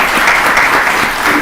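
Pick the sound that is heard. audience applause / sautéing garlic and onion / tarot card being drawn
audience applause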